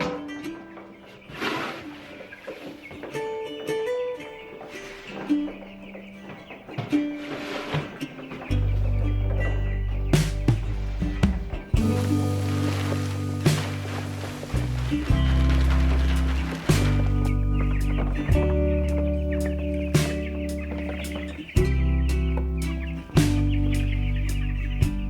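Meat chickens in a brooder, a group of about 35 birds, cluck and chirp repeatedly at close range, while a steady low hum runs underneath through much of the clip.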